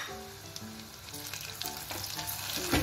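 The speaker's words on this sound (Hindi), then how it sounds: "प्याज भूनते भूनते हमें 2 से 3 मिनट हो चुके हैं।" Onions and green peas fry in a pan with a soft, close sizzle and light stirring clicks, heard alone.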